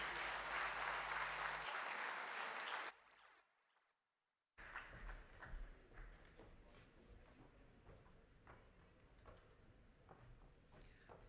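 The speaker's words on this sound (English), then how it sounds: "give another round of applause to Anjali, please" An audience at a students' conference applauds after a song performance, a loud round of clapping that cuts off abruptly, followed by quieter scattered claps and room noise.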